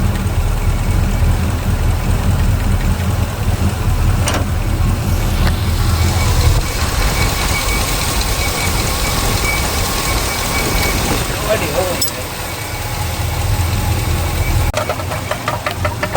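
Small-block Chevy V8 running at a steady idle with rocker arms exposed, a close low rumble with light valvetrain ticking and a brief dip in level, while people talk beside it.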